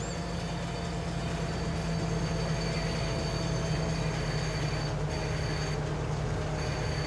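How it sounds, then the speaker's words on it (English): Steady train rumble from Farming Simulator 22 in the Goldcrest Valley setting, a continuous low rolling drone with a constant hum running the whole way and no talking. "I'm going to ride the train on back"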